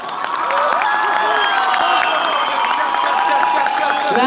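A concert crowd applauds and cheers for a singer, a dense, steady wash of clapping that swells in within the first half second and stays loud throughout, with scattered shouts mixed in.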